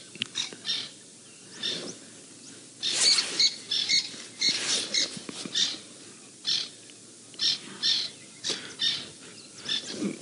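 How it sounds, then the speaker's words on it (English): Several babblers give repeated harsh, chattering calls in short bursts, fairly close, with brief pauses between outbursts. "There's a couple babblers making some noise now."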